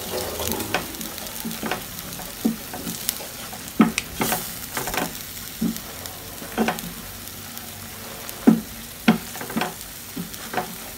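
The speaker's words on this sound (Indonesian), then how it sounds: "ini ditumis sampai wangi" Stir-frying in a Kangaroo brand cookware pan, a moderate sizzle under repeated sharp scrapes and knocks of a spatula against the metal pan at an irregular rhythm, close by with no talking.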